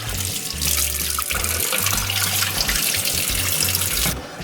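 Potatoes are rinsed under a running kitchen tap, a loud continuous splash of water striking and trickling close by, ending abruptly after about four seconds.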